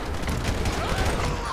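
Rapid gunfire rattles through a brief, loud burst in GTA V during an LSPDFR police-mode SWAT mission, dense overlapping shots filling the moment.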